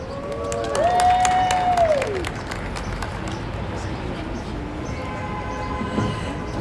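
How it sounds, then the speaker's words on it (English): An outdoor crowd claps at a cold-weather Black Pride flag raising at City Hall. The applause is moderate and thins out over several seconds under a steady open-air background, with a brief whistle-like tone early on. "Can we get another round of applause?"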